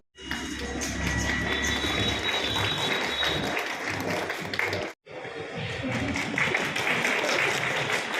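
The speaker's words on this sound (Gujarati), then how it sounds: "આપણે સૌ તાળીઓ સાથે વધારીશું" Sustained audience applause at a flag-hoisting ceremony at the Bhavnagar S.T. divisional office, steady and full for about five seconds, a brief break, then clapping resumes just as strongly.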